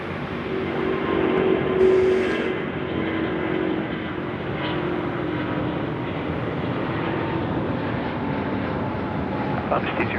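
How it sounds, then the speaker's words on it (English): A China Airlines jet bound for Taipei takes off from runway 34 left at Sydney Airport at night, its broad engine roar rumbling steadily throughout while people talk faintly nearby. "It's the China Airlines 52, Dynasty 52 going home to Taipei now. Ripping it out, runway 34 left."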